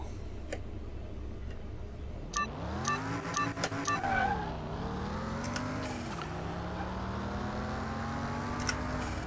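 In the Car Mechanic 2021 game, an Audi TT races an 8-cylinder Audi A8, engines climbing and shifting through gears after a burst of ticking clicks, with the rising engine drone carrying on steadily, moderately loud and unaccompanied by talk.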